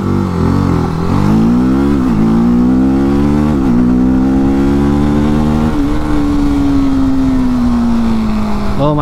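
A 2024 TVS Apache RTR 310 motorcycle accelerating hard in first gear and up through quick shifter gear changes, its loud close engine note climbing in pitch, then dipping briefly at each shift before rising again.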